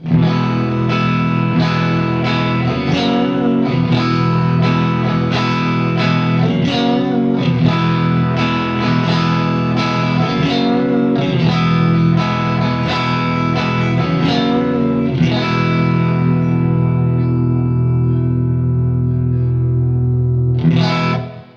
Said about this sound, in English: I can roll in the middle pickup with the neck pickup and again get kind of a fat Strat sound.